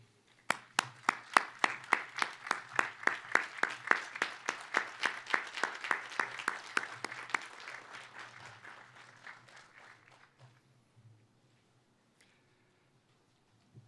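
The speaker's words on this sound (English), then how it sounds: "Let's give them all a well-deserved standing ovation." A large audience at a college commencement applauds in a standing ovation, a loud burst of sharp rhythmic clapping that is dense at first, then thins out and fades away to silence.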